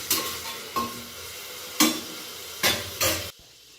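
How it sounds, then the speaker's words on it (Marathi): Onion frying in oil for chicken biryani, a steady close sizzle broken by five or six sharp scraping stirs of a spatula against the pan. "कांदा टाकून कांदा चांगला लाल परतून घ्यायचा"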